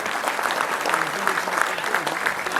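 Sustained, dense applause from an audience at an All India Mushaira poetry recital, steady and fairly loud across the whole stretch with no pauses.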